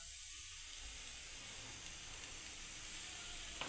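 A cardamom pod dropped into hot oil left after frying lentil fritters sizzles with a faint, steady hiss throughout.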